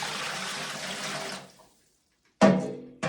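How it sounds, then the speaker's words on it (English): Water scooped by the bucketful and dumped into a hot water tank atop a wood stove in a remote Alaska dry cabin: a steady, close pouring rush for about a second and a half, then silence and two abrupt splashy bursts. "I'm scooping water out bucket by bucket to go dump into the hot water tank on top of the wood stove"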